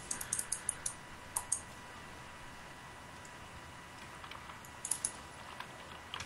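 Typing on a computer keyboard, scattered sharp clicks in short bursts with pauses in between, set against a steady background hiss.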